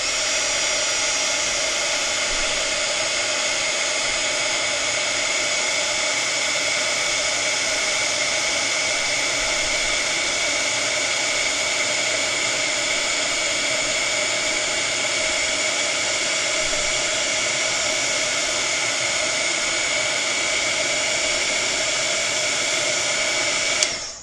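A heat tool blows a loud, steady whirring hiss without pause, melting layers of iridescent sparkle embossing powder for a faux cracked glass craft.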